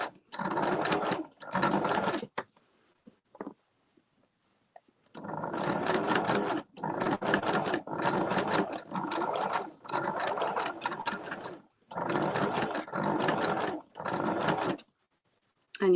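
A sewing machine stitches a coiled rope bowl in repeated runs of rapid, steady mechanical clatter, a few seconds each, separated by short pauses, close and clear with no talking.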